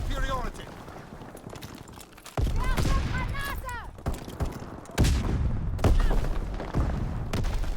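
Gunfire in Call of Duty: WWII, repeated loud shots and bursts in a busy firefight, with game voices and effects layered over the shooting.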